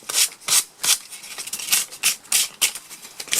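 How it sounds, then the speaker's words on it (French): Hand sanding roughly over a metal part from an office chair's gas cylinder, a series of close, raspy scrubbing strokes in a quick, uneven back-and-forth rhythm. "On va faire un ponçage sommaire"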